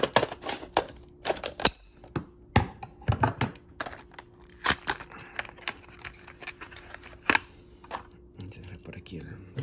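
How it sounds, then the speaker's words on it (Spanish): Poultry shears snip through toy blister packaging: close, sharp clicking cuts and crackles of stiff plastic come in an irregular run over a faint steady hum. "Vamos con las tijeras de pollero."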